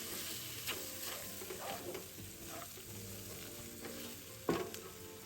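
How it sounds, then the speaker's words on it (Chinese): Fresh orange pieces are stirred into just-fried chicken pieces in a pan after the heat is switched off. A soft sizzle carries on under scraping stir strokes, with one sharper clack of the utensil near the end. "将备好的鲜橙拌加入，拌一拌"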